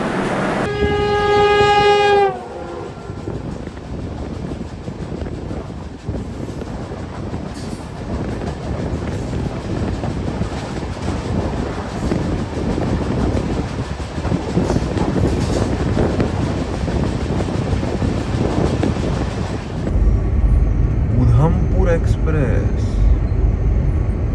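Udhampur Express rolls past at an Indian railway station, its horn blaring in a long harmonic blast before the rushing, clattering roar of passing coaches carries on loud and close with wind buffeting, ending with a change in tone.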